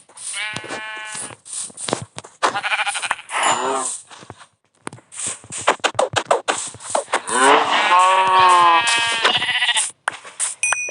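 Several sheep bleat repeatedly in a video game, some near and some farther off, overlapping in wavering cries with short pauses between them.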